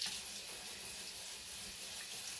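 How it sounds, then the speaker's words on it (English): Green beans get a quick rinse under a kitchen faucet, the running water making a steady, soft hiss with no one talking. "I'm going to go ahead and give them a bit of a rinse"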